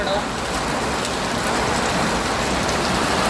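Rain falls steadily and loudly on an outdoor cricket ground, a dense, even hiss of drops that stays constant throughout.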